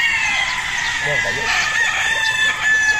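Gamecock battle stags crow loudly and close on a farm, several overlapping calls over a steady din of other birds, with clucking throughout and a person speaking briefly.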